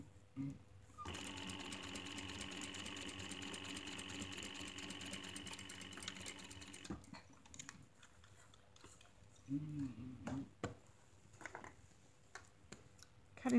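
Domestic sewing machine stitching a pocket flap, running in a steady fast whir for about six seconds, then stopping, followed by quieter handling sounds and a few short bursts of stitching.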